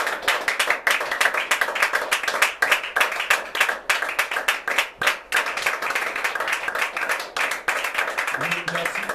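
A church congregation claps and applauds in quick, dense rhythm, loud and continuous throughout, with voices faintly audible beneath the hands.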